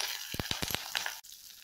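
Soft sizzling of chopped small onions and curry leaves frying in oil in a pan, with a few light clinks and stirring scrapes near the start, quiet and close.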